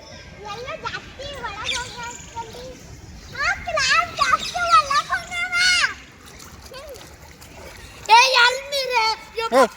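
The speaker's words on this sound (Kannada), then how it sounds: "ಹಂಗೆ ಹಾರಿಸ್ಬೇಡ ನೀರು" Children splash and stamp through a muddy puddle in short bursts of water splatter, while kids' voices and an adult's calls run over the top close by.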